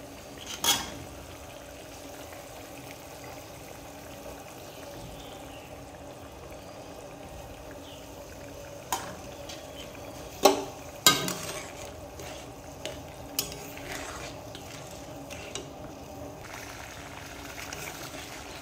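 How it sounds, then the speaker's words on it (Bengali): Poppy seed paste being stirred into boiled potatoes in a pan for aloo posto: a steady low simmer runs throughout, broken by a few sharp spoon-on-pan clinks and scrapes clustered near the middle and end. "ভালো করে নাড়িয়ে চাড়িয়ে গ্যাসটা একদম লোতে রেখে 3 থেকে 4 মিনিট ফুটিয়ে নেব।"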